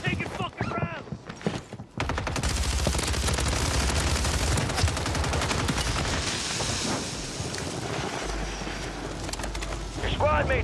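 Heavy gunfire in the battle-royale shooter Warzone erupts after a brief pause, a dense, loud stream of rapid shots and impacts that continues almost unbroken to the end.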